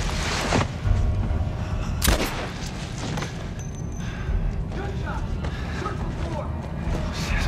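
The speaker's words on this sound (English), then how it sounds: "Gunshots!" Gunfire in The Last of Us Part I, heard as a few sharp, loud shots fired at separate moments, with a low rumble and game noises filling the gaps between them.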